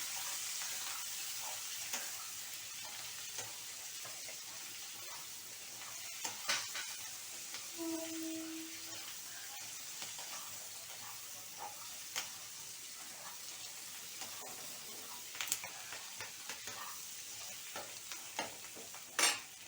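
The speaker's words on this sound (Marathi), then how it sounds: "हलवून घेऊया." Mushroom chilli frying in a pan, a quiet continuous sizzle with scattered scrapes and clicks of a stirring spoon, close but faint, no voices.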